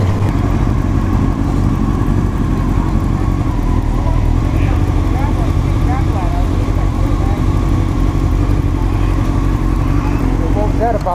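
A Honda CBR929RR motorcycle on a group ride gives a loud, steady engine drone with rushing wind, running throughout, joined now and then by faint traffic sounds.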